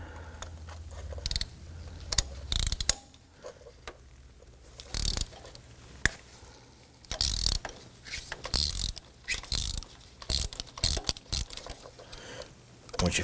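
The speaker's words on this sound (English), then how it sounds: "Use our ratchet." A ratchet with a 14mm deep socket and extension clicks in short irregular bursts while loosening a spark plug on a 2018-2024 Toyota Camry 2.5L four-cylinder, close and crisp with pauses between strokes.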